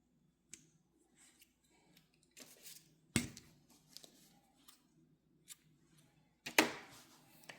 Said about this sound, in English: I will cut my yarn there